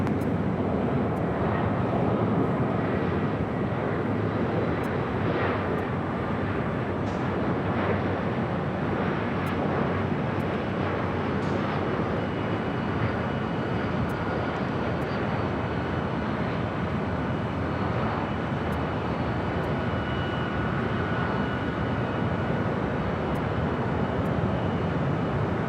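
A Delta airliner sits on runway 24 left at Los Angeles International Airport amid a broad, steady jet engine roar that holds loud and constant, with faint intermittent clicks and no talk.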